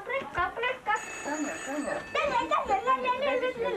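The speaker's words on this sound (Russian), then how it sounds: "подойди телефон, звони." A telephone rings in a home with a repeated electronic trill, heard under a child's and adults' chatter nearby.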